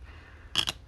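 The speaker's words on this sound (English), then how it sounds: "she's clunking her scissors" Scissors clunk twice in quick succession at close range during craft work making mini journals, two short sharp metallic knocks over a quiet room.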